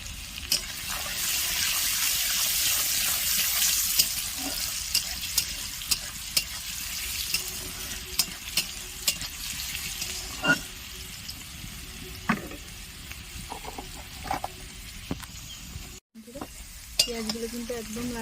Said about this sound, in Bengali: পেঁয়াজগুলো কিন্তু খুব ভালো করে লাল করে ভেজে নেব।